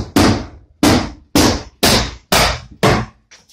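Six loud, sharp metallic strikes from a two-pound sledgehammer land in a steady rhythm, each blow ringing briefly before the next, close and alone.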